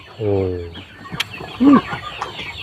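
Pradu Hang Dam black-tailed chickens, an egg-laying breed kept on a farm, give a couple of short clucks close by, separated by a brief pause against a quiet background.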